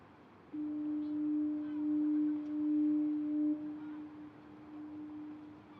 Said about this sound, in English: listening to the sound of the foghorn